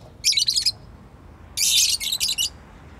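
Pet birds kept indoors give two quick bursts of high chirping and tweeting, close and clear, separated by a short quiet gap.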